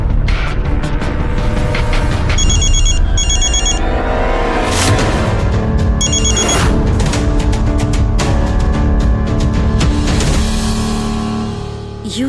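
Phone ringtone heard in two short bursts of bright electronic ringing within a television serial scene, partly masked by loud dramatic background music.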